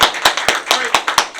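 A small audience gives a singer a quick round of applause: a handful of close, distinct hand claps in a loose rhythm, about eight in under two seconds.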